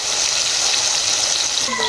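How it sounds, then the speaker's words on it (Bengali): Pangas fish fry in hot oil in a pan, giving a continuous, close, crackling sizzle with a faint clink near the end. "উল্টে দিয়ে আর এক সাইড ভাজবো"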